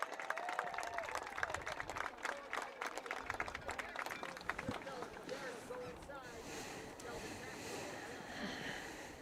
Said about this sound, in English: let's see a big round of applause for all the athletic directors and all the coaches out there